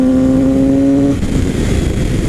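A Yamaha 600 sport motorcycle revs hard at full throttle while riding, a loud, close engine whine holding a high steady pitch, then breaking into rough wind-buffeted roar as the rider rolls off.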